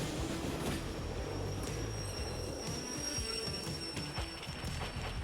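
Train cars rolling and clanking during shunting in the video game Derail Valley, with a steady rumble, repeated metallic knocks and a thin high squeal, fairly quiet and without talk.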